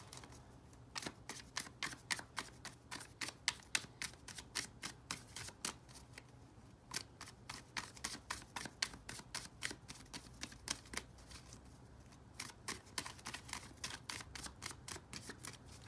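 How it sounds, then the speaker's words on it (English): A tarot card deck being shuffled and cut, rapid crisp riffling clicks in bursts with short pauses between, close and fairly quiet. "let's cut the deck. And let's cut the deck again."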